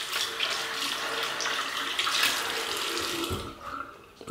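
Tap water runs for rinsing after a wet shave, a close, steady rushing splash that softens and fades near the end.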